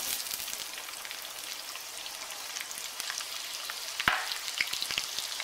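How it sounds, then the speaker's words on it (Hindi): Onions and cumin seeds frying in hot oil in a pan make a steady, close sizzle with light crackles and a brief louder pop midway, no voices present. "प्याज को फ्राई कर लें थोड़ा सा"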